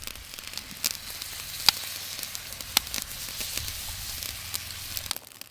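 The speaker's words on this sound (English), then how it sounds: "I'm going to add about a quart of beef broth." Beef broth hits a hot skillet holding short ribs, setting off a steady bright sizzle with scattered pops and crackles, close and continuous before quickly dying away at the end.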